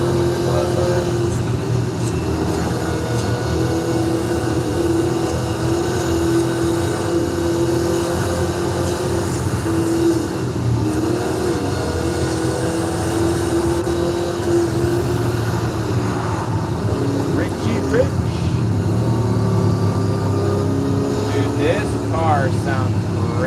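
A supercharged muscle car engine in Forza Horizon 5 drones continuously with a steady tonal whine, held at a constant pitch throughout, with faint chirps near the end.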